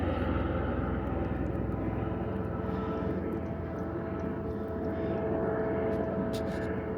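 A helicopter flies above a rooftop garden, its steady engine and rotor drone loud and continuous throughout, with no talking.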